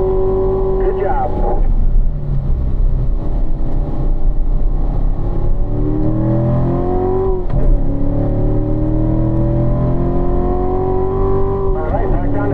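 Race car engine on a track pulling through gears and revving, with pitch sweeping up and down as it shifts and slows for turns; loud and steady throughout, with an instructor's voice talking over it.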